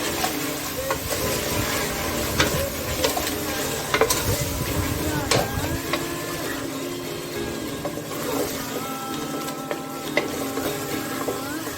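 Sliced onions for chicken biryani fry and sizzle steadily in a pan toward golden brown, with intermittent stirring scrapes and a continuous loud hiss throughout, no voices.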